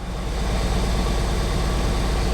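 A Ford Fiesta ST180 engine idles roughly with a misfire, a steady close low rumble with an uneven, stumbling pulse and no talk.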